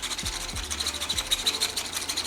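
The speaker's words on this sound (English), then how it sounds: "I can literally just wrap my sandpaper around this and just like do this kind of motion" Sandpaper rubbed by hand over a small round PLA 3D-printed part, a soft repetitive scratchy rasping in quick strokes, close and fairly quiet.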